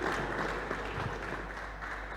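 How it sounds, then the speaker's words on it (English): A steady wash of audience applause fills a peace and security summit hall, even and unbroken from start to finish at a moderate, slightly distant level, with no clear voices on top. "Please, a better round of applause to ICT professional right here"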